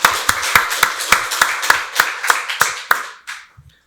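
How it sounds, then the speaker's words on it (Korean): A church congregation claps at a New Year's thanksgiving service, a dozen sharp, evenly spaced unison claps that stop abruptly, followed by a faint bump. "박수로 하나님께 영광 돌리겠습니다."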